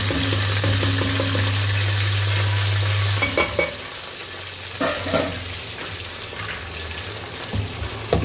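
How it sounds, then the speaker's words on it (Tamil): Curry leaves and onion sizzle and fry steadily in a hot pan, a loud continuous crackle with occasional stirring scrapes and clatters, no voices. "இப்போ கருவேப்பிலை வெங்காயம் சேர்த்துக்கலாம்."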